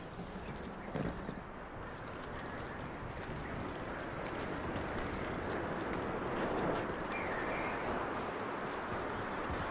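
Steady horse hooves clip-clopping in the video game Red Dead Redemption 2, across a dense, continuous bed of outdoor noise, moderately loud and even throughout.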